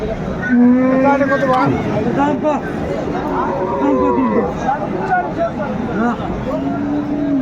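Sahiwal bulls at a Dinajpur cattle market give several loud, drawn-out moos, some close and some farther off, over a constant babble of crowd chatter and voices.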